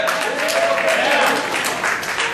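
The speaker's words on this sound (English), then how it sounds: "I want to give him a big round of applause" Audience applause at an activism awards event, a steady wash of clapping with cheering and a tonal voice line rising through it, close and fairly loud.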